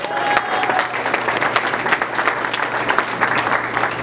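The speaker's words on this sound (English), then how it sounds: "So can we please give them a big round of applause one last time?" An audience at a school Thanksgiving luncheon applauds, a dense, even patter of many hands clapping that holds steady throughout.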